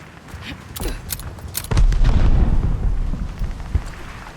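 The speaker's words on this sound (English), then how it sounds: "They're sending mortar shells!" Mortar shells exploding in a video game: a run of close, loud booms with a heavy rumbling impact in the middle, preceded by sharper cracks, all set in busy game noise.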